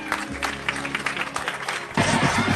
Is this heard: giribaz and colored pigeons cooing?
no